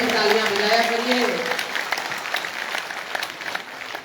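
Applause rises from a crowd at a live poetry gathering in Rudrapur, beginning under a speaking voice that fades out, then continuing as scattered, moderately loud clapping to the end.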